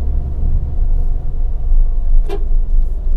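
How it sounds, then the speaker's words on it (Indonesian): A Toyota Avanza climbs a winding hill in third gear with three people aboard, its engine giving a steady low interior rumble throughout with a brief faint squeak partway. "Ini masih pakai gigi 3, nanjak-nanjak sambil belok."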